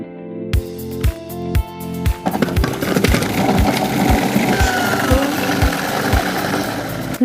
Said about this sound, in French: On va retirer le cœur et on va les broyer au robot-coupe.